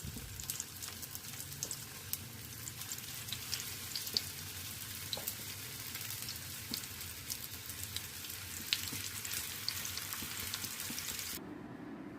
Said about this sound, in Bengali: এখানে আমি হোয়াইট অয়েল গরম করতে বসিয়ে দিয়েছি, একে একে ভেজে নেব। একদম লো ফ্লেমে ভাজতে হবে